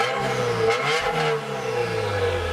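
A Subaru WRX fitted with a catless J-pipe revs hard nearby, its loud engine rising and falling through several throttle blips with a raspy exhaust note and no talking.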